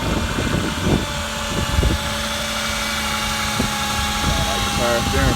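A car running at a dealer auto auction, its engine droning steadily throughout the clip with a faint whine, while people talk nearby.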